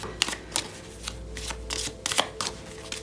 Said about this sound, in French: on va battre le petit jeu de cartes